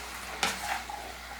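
Chicken being mixed in a hot pan: one sharp scrape of a spoon against the pan, then a few softer stirring sounds over a low sizzle, close up.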